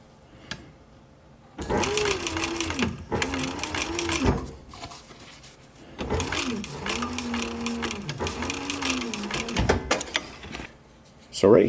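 Close up, a sewing machine stitches a seam on a military patrol cap in several bursts of rapid whirring separated by short stops.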